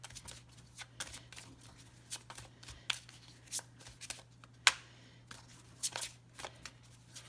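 A deck of Star Dragons oracle cards being shuffled by hand, soft riffling flutters and light card slaps repeating in short bursts, close and quiet, with no talking.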